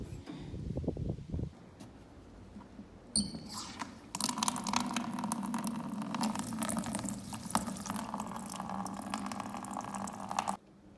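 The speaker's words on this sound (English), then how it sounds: "I've got some water because I just wet it all in here before I do it" Water is poured onto a dry mortar mix, a close splashing and trickling pour that starts abruptly and runs steadily for several seconds before cutting off, after a few brief louder knocks at the start.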